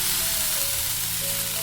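Water poured onto a hot greased iron tawa, a loud steady hiss of sizzling that holds throughout a brief moment, close up with no voices.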